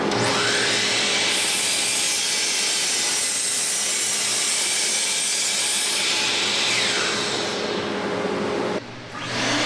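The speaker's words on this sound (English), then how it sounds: "Here I'm cutting a 45-degree dado into the post" A saw grinds steadily through a wooden post, cutting a 45-degree dado, a loud continuous rasping whine that stops abruptly near the end.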